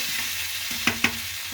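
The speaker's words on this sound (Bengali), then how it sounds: "আলুটা প্রায় দু মিনিট মতন করে ভেজে নেওয়ার পরে" Potatoes frying in a pan with a soft steady sizzle, broken by two sharp scraping stirs close together near the end, close up with no voice.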